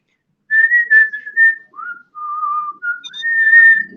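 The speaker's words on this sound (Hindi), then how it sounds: "साँस बाहर छोड़ते समय भी सीटी बजे और साँस अंदर लेते समय भी सीटी बजे" A person whistling by mouth with continuous breathing, holding clear, loud, close melodic tones that glide between pitches with only brief gaps, whistling through both the in-breath and the out-breath.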